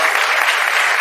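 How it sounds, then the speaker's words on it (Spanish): A conference audience claps loudly for a customs surveillance service and maritime rescue agency, a brief, dense and even burst of many hands close by. "Para todos pido un fuerte aplauso."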